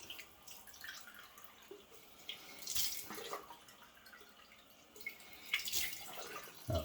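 Tap water runs into a sink while a man rinses his face after shaving, with faint steady splashing and two louder bursts of water and dripping, no talking.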